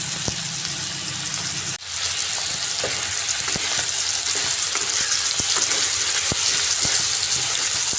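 Ridge gourd and potatoes sauté with spices in hot oil, a steady loud sizzle and fry broken by sharp clicks of a spatula stirring against the pan, continuous throughout with no voices.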